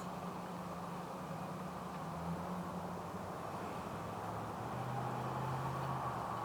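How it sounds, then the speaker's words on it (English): Steady traffic from cars crossing the Coleman Bridge in Yorktown, a continuous broad roar of tires and engines that swells slightly toward the end, fairly loud and unbroken, with no talking. "those cars going over the Coleman Bridge there, Quite loud, huh?"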